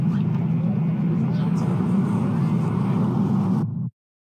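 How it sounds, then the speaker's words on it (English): Surf at Surtsey island, a steady, loud rushing and churning of water with a continuous low rumble, cut off abruptly near the end. "behind us, we can hear a wave"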